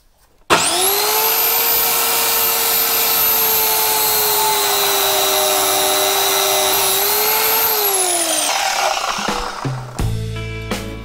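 A power tool cuts through a metal bar, keeping one steady high whine for about seven seconds before it winds down. Clinks and handling knocks of the workpiece follow near the end.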